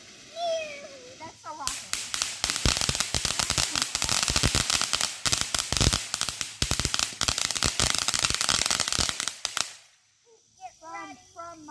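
Dense barrage of Fourth of July fireworks and firecrackers popping and banging for about eight seconds, loud and continuous with crackling bursts, with voices and a whistling rocket briefly heard before and after.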